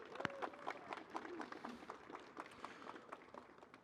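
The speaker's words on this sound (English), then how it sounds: "Round of applause, please." Scattered clapping from a small university audience at a celebration event, faint and distant, a steady patter of hands under a low murmur of voices.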